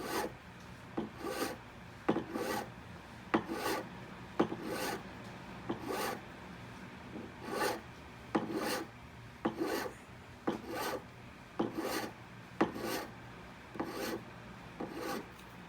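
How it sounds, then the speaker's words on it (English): A file rasping a wax ring band held against a bench pin, giving repeated scratchy back-and-forth strokes in a steady rhythm, close and fairly quiet, with no talk. "So you can see I'm turning the wax as I'm filing."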